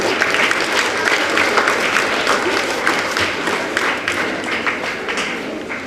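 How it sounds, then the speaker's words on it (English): A hall audience at a school language-day prize ceremony claps steadily and loudly for the winners, a dense, continuous applause that lasts throughout. "Please have a round of applause for the winners."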